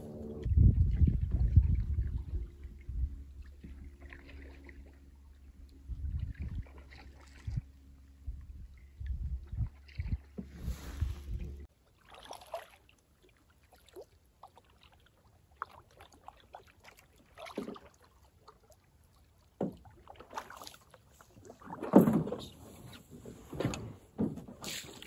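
Canoe paddling on a calm lake in Maine in mild autumn weather, with close, soft splashes and knocks of the paddle at the start, then faint intermittent water sounds and light rustles over a quiet, still background.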